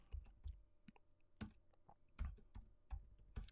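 Typing on a computer keyboard, a quiet close series of separate key clicks in an irregular rhythm, with short pauses between strokes.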